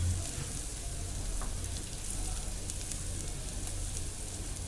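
Onions sizzle and fry steadily in a pan for idli bath, a soft, continuous crackling hiss heard up close with no talking over it.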